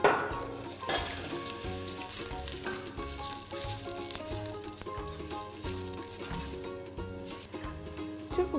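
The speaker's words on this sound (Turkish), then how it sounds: "Yağımız biraz ısındıktan sonra içerisine doğradığımız soğanlarımızı ilave edeceğiz." Chopped onions fry in hot olive oil in a pot for a Muğla-style mallow stew, giving a steady, close sizzle with crackling throughout and no talking.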